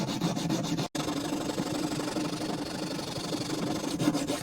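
Steady, continuous rasping of a hand file scraping back and forth, close and loud, with one brief pause early on and no talking.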